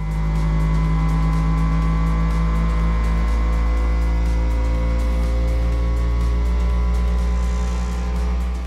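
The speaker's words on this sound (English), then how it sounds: "this machine is actually testing all its different frequencies" A Flashforge 5M Pro 3D printer runs its vibration calibration, giving a steady, loud mechanical drone with tones that hold and shift over several seconds, close by and with no talk.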